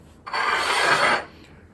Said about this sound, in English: you hear that lock into place